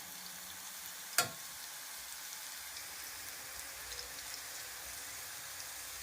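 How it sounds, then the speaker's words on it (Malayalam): Bitter gourd chips deep fry in oil with a quiet, even, rain-like hiss, broken once by a sharp click early on. "രണ്ട് സൈഡും മൂത്ത് വരത്തക്കവണ്ണം നമുക്ക് വറുത്തെടുക്കാം"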